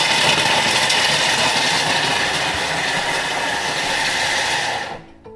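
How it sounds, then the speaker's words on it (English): Thermomix grating at speed 7 for about five seconds, a loud steady whirring roar of the blades that cuts off abruptly as the motor stops, close and alone. "I'm going to grate this down for 5 seconds"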